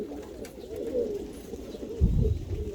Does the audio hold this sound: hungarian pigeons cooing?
yes